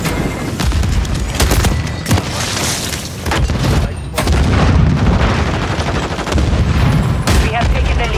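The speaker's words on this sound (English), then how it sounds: "Throwing Semtex!" Loud gunfire and booming blasts, including a Semtex grenade detonation, in a Call of Duty: Modern Warfare 3 multiplayer match; dense, continuous combat noise with voices shouting over it.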